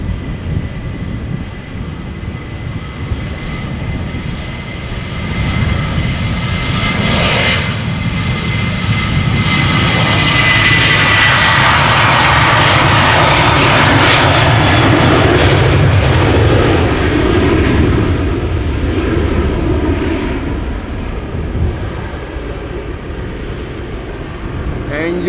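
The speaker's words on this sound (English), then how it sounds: "KLM flight 1373 to Bucharest is coming this way." A KLM jet airliner takes off at Amsterdam Schiphol, its engine roar building to a loud, broad, close peak mid-way before slowly easing off, sustained for the whole stretch.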